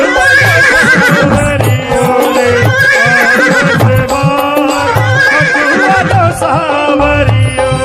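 Repeated horse neighs and whinnies, loud and close, set within a devotional Khatu Shyam bhajan, with rhythmic low thumps beneath the cries and no speech.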